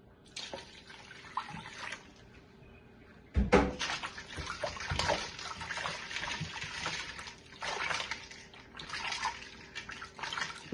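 Water poured into a bowl of snails being washed with alum to clear their slime, splashing and trickling close by with a burst of sloshing after a quiet start, then steady agitation.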